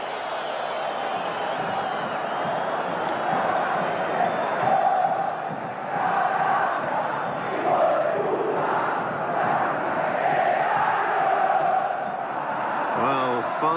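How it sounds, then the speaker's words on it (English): Dense crowd noise from a packed stadium at a 1987-88 Argentine league football match between Boca Juniors and River Plate, a loud continuous roar and chanting with swelling surges, heard alone without commentary. "Listen at the crowd."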